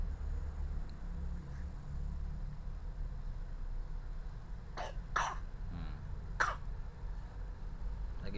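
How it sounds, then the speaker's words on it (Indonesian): A small child coughs in a quiet room, a few short sharp coughs in a quick cluster near the end, close and distinct over faint background hiss. "Lagi batuk apa sayangnya, cepat sembuh ya sayang."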